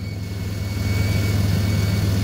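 A car engine idles steadily and loudly close by during a battery test with a Topdon BT Mobile PRO S tester, a constant low rumble that holds even throughout with no revving or talk.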